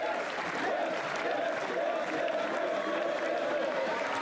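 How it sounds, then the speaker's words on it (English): Boys cheer and clap in the background at swimming championships, a sustained crowd roar with applause and shouting at moderate distance, steady throughout. "you can hear the boys cheering in the background"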